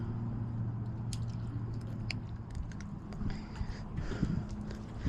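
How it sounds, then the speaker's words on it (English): Wet squishing and soft tearing as guts are pulled from a bluegill by hand, close and quiet over a steady low hum, with a few sharper slick clicks toward the end. "And pull the guts out."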